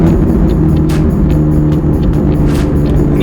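A 620 hp Ferrari 458 Italia runs at speed, its engine a loud, steady roar heard from inside the car, with faint clicks and shifts above the constant drone.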